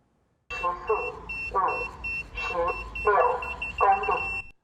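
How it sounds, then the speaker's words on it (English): A Taiwanese railway train-approach warning alarm sounding in repeated electronic tone bursts, about five pulses in a steady rhythm, fairly close and clear. "Taiwan's railway authority is installing new alarm systems to let people know when a train is coming"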